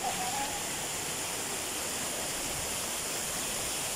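A waterfall at a hidden bathing spot roars with steady, broad rushing water throughout, constant and fairly loud, with no break and a brief faint tone near the start.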